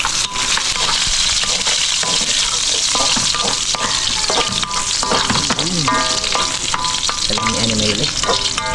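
Crab simmering in coconut milk in a pan with aromatics, a steady close sizzle and bubbling frying sound with occasional stirring scrapes, continuous throughout with no talk.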